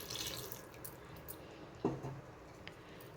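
Marinade water poured into a chicken gravy curry in a home kitchen, a faint, quiet trickle with one short splashing burst midway.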